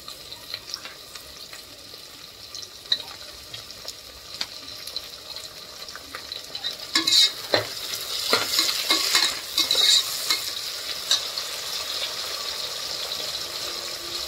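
Tomatoes cook in a pan with roasted masala for a prawn and green pea pulao. A quiet background sizzle grows busier and louder midway, with rattling stirs and clinks, and nobody speaks.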